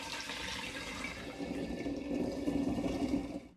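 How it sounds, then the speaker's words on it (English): Melted honey poured through a funnel into a glass demijohn standing in a sink while making prune mead, a steady close trickle and gurgle of flowing liquid that swells slightly toward the end, with no voices. "My honey is melted, so I'm now pouring that through a funnel into my demijohn"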